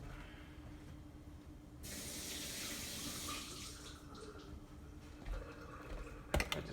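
Tap water runs steadily over a dropped frozen milk cube as it is rinsed at a sink, a continuous close hiss with a few small knocks and clatters near the end.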